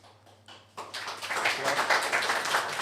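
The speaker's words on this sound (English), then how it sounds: "Applause to Faustus" A small tech meetup audience in Vilnius breaks into applause after a few faint taps, the clapping swelling quickly and continuing steadily, fairly close and moderately loud.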